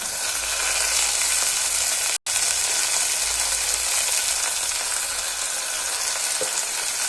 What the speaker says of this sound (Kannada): ಫ್ರೈ ಆದಮೇಲೆ ಮೆಂತ್ಯ ಸೊಪ್ಪನ್ನ ಹಾಕ್ಕೊತಾ ಇದ್ದೀನಿ